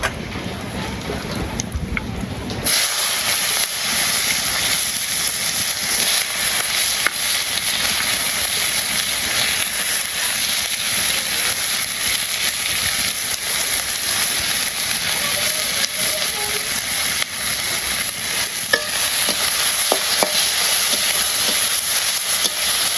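Onions fry with cumin and spices in a pan in a village kitchen, a loud, continuous broadband sizzle that flares up suddenly and holds steady for about twenty seconds, close and unbroken.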